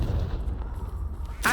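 A Confringo fire spell blast in Hogwarts Legacy, a sudden loud burst near the end of a dense, rumbling battle background.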